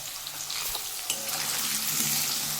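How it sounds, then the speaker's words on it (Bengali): Potatoes sizzling in a pan with salt and turmeric as they are stirred, a steady hiss building after a clink, close and moderately loud. "আমি নাড়িয়ে নাড়িয়ে দিচ্ছি ভালো করে ভাজার জন্য"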